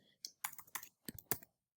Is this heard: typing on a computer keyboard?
yes